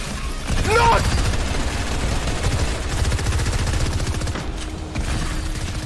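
Rapid automatic gunfire from a weapon in a competitive shooter video game, a loud sustained burst of shots under excited in-game chatter and talking throughout.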